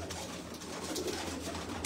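Pigeons coo softly and continuously amid a steady murmur of a pigeon keepers' gathering at Jinnah Garden, Islamabad, with no distinct speech over the calls.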